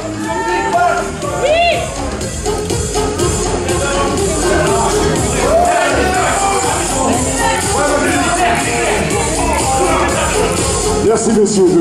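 A crowd at the Grand Prix du Vexin, a steady din of many voices with cheering and shouted encouragement, loud and continuous, with individual people calling out throughout.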